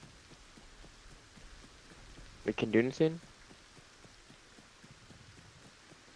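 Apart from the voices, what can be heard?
rain in a Lego video game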